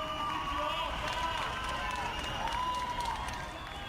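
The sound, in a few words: applause from windows celebrating Brasília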